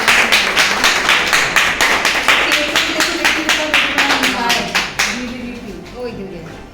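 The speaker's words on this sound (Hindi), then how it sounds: "तालियां तो बजाओ।" An audience at a Beti Bachao Beti Padhao event claps in a quick, rhythmic series of loud claps, then stops abruptly and a voice speaks over the fading room.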